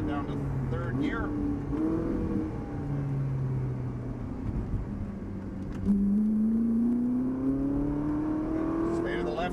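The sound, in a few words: Ferrari 458 Italia engine accelerating on race track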